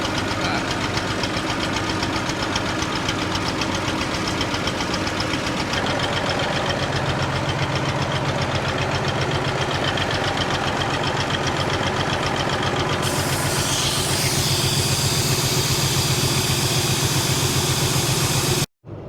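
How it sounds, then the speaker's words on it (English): Tractor-mounted air brake compressor runs steadily to refill an air system, a continuous close engine drone with rapid knocking pulses that holds loud and even for the whole stretch before cutting off abruptly at the end. "it's much easier to just bring the tractor and refill with the tractor compressor"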